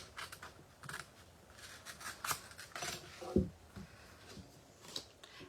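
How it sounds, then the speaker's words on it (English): Scissors cutting card paper at an angle while making a gate fold card, a few short snipping and rustling strokes close by, fairly quiet, with no talking. "And I'm going to cut on the angle"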